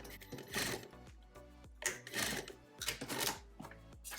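A sewing machine runs in short bursts of mechanical whirring while stitching a quarter-inch seam on a T-shirt. The bursts are fairly quiet and come in a loose, repeated rhythm with brief pauses between them.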